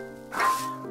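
One short, bright yip from the pumpkin puppy creature in Little Witch in the Woods rises over soft background game music.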